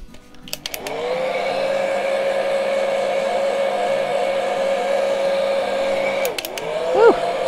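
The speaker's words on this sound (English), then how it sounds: "Now I'm gonna get my dryer out and dry this." A handheld hair dryer blows on fresh paint, switching on with a click into a steady whirring hum that holds for several seconds before clicking off and winding down.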